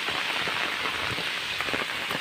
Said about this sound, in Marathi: असा हा पाऊस कंटिन्यू लागणार असं मला तरी वाटतं